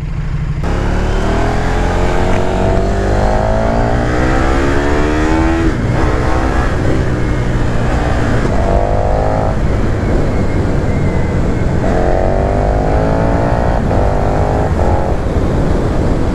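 A KTM 1290 Super Duke R 2020 motorcycle accelerates hard in repeated loud engine surges with rising revs, the roar climbing through gears several times, heard close and alone.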